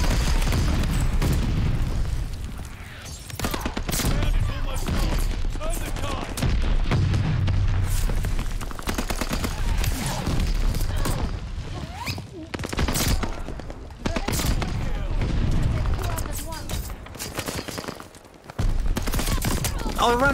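Dense, loud gunfire and booming blasts fill a busy Call of Duty: Vanguard match on the Shipment map, with bursts of shots repeating almost continuously under excited talk from a player.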